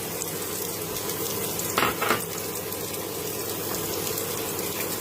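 A medium chopped onion frying in a pan, a steady soft sizzle running throughout with a brief clattering stir or scrape in the middle.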